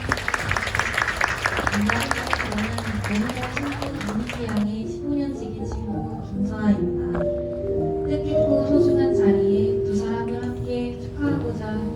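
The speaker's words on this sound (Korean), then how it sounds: "여러분 큰 박수로 맞이해 주시기 바랍니다" Wedding guests in a ceremony hall clap loudly together for about four seconds before the applause fades into soft melodic background music that continues alone.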